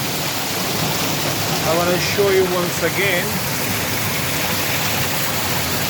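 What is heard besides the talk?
mountain stream water flowing near a waterfall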